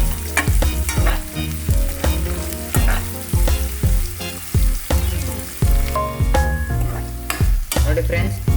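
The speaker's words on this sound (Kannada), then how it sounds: "ಈರುಳ್ಳಿ ಫ್ರೈ ಮಾಡ್ಕೋಬೇಕು ಚೆನ್ನಾಗಿ" Onions frying in a pan for a dhaba-style egg curry, a loud steady sizzle punctuated by regular scraping strokes of a spatula stirring them, close up with no talking.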